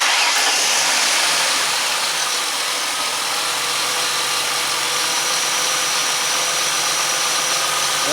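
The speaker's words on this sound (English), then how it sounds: "let's start the car and see what we got" A 2005 Ford Mustang engine, after a misfire repair, cranks and catches, then settles into a steady, loud running drone close by, with no voices.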